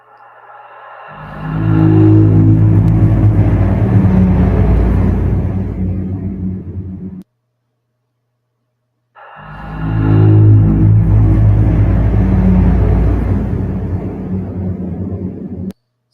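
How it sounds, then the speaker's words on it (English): Cave ambience sound effect built in Unreal 5 plays as two long swells of deep, rumbling wind-like drone, each rising, holding and fading, with a short silence between them and no voices. "So this is some of the other cave sounds."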